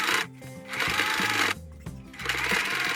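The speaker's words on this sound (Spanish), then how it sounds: "Pasamos la máquina haciendo una costura recta dejando 1 centímetro aproximadamente." Sewing machine running a straight seam on denim while making a lined bag from old jeans, a steady buzzing stitch in several bursts with short pauses between runs, close and loud with no talking.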